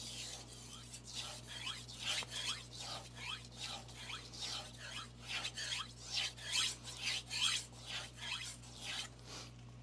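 A kitchen knife is drawn in long strokes across a diamond whetstone, giving a steady series of soft, rhythmic rasping scrapes close up over a low electrical hum.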